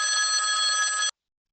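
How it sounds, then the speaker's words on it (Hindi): A mobile phone rings with a loud, steady electronic trill for about a second, then cuts off abruptly into silence. "देखो हौलदार तुम्हारे मोबाइल पे किसका फोन आ रहा है।"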